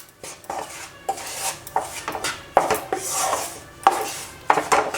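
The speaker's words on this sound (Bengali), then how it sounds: "আর ঘিয়ের সঙ্গে এইভাবে নাড়াচাড়া করে মিশিয়ে নেব।" A spoon scrapes and knocks around a pan as wheat flour (atta) is stirred into ghee over low flame for gurdwara-style halwa, with repeated close scraping strokes and sharp metallic clinks recurring every second or so.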